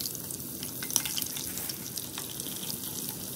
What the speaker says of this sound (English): Add chicken to oil.